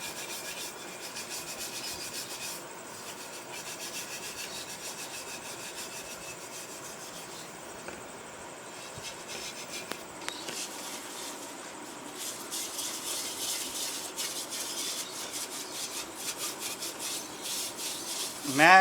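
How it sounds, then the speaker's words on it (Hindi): A wet clay pot used as a budgie breeding box is scrubbed hard, giving a steady close rasping rub that continues without a break and grows a little louder toward the end. "इसको ज़रा ज़ोर लगाने के बाद आप इसको रगड़ेंगे तो मटकी बिल्कुल नई जैसी हो जाएगी।"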